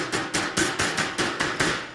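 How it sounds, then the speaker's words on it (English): A body hammer taps sheet metal in a steady rhythm, about nine light, ringing strikes in two seconds, close and clear with no talking. "I lightly tap it with a body hammer just to kind of relieve the stress"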